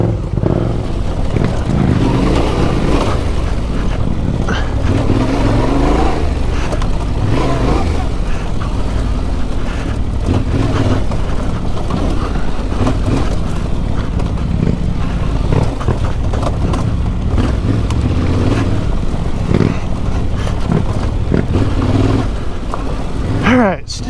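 A Yamaha Tenere 700 motorcycle ridden along dirt trails, its engine droning loud and steady throughout with wind and rumble up close.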